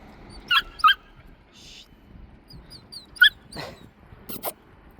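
Abandoned street puppies from a litter of six let out a few brief, high whimpers and squeaks, scattered and fairly faint against a quiet background.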